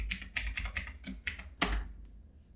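Fingers type a password on a computer keyboard: roughly seven quick, close keystroke clicks in an uneven burst, ending with one firmer tap, against a quiet room.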